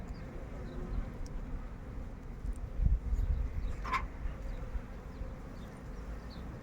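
Honey bees buzz around an opened hive during an inspection of the brood frames, a dense steady hum close by with individual bees droning past.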